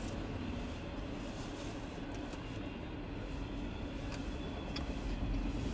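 A CSX freight train led by a new EMD ST70AH Tier 4 locomotive rumbles past, a faint, distant, steady low roar with occasional metallic clicks, no voices.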